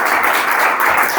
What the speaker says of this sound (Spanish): Dale un aplauso al Señor, aleluya.